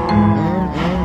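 Minecraft cows moo in one short, close, loud low call that wavers briefly, alone without speech.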